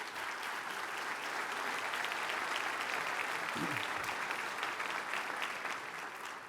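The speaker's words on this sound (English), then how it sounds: "Let's give them a round of applause and thank them very much." Steady applause from a sizable crowd fills the room at a governor's budget address, continuous clapping at an even level throughout, with a faint voice briefly underneath.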